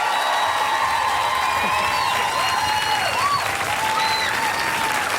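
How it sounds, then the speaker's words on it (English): A large audience applauds loudly and steadily, dense clapping filling the whole stretch with a few whistles and shouts rising through it. "Give him a round of applause!"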